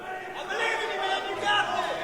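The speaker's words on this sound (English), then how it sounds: "Crowd giving Bozworth all their hate here" A wrestling crowd at an XWW Heavyweight Championship match jeering Bozworth in his bout against Keith Mack, a dense sustained roar of booing voices filling the arena, fairly distant and continuous.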